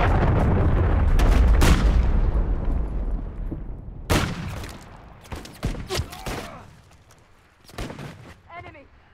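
A cruise missile strike in Call of Duty MW3 lands as a loud, long booming explosion with a rolling rumble, followed by several sharp gunshot bursts and a faint game voice in the background.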